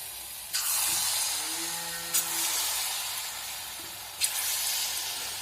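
Banana paniyaram batter frying in hot oil, a steady bright sizzle that surges three times as fresh pinches of batter drop in, close and clear with no talking.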